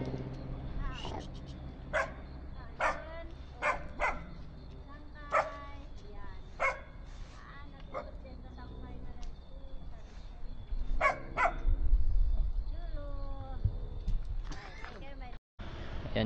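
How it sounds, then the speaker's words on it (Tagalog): Several dogs bark and yip around a pine-forest campsite in Bokod, Benguet, with sharp, irregular barks spaced every second or so, some near and some farther off, over rumbling engine and ground noise and people talking. "Mga aso."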